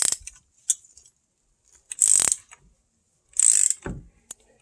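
A bushing installation tool from a Full Tilt Boogie kit presses a cross axis joint into a knuckle on an independent rear suspension, heard as a few short, sharp ratcheting bursts separated by silence, close and clear.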